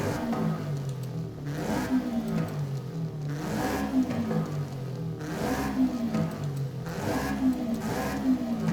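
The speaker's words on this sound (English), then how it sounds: "We just have the same exhaust sound, really?" A Toyota GR86 in Forza Horizon 5 revs repeatedly, its engine and exhaust rising and falling in pitch in regular cycles roughly every two seconds, loud and close with no talking.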